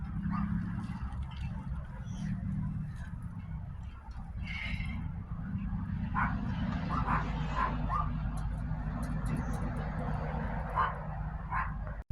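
A puppy yips and whimpers in a spring garden, short faint cries scattered over steady outdoor background noise.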